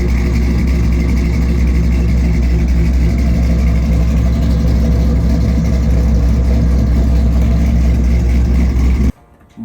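A car's engine runs steadily and loudly, close by, with a deep rumble and revving as it drives, alone with no talk, cutting off abruptly near the end.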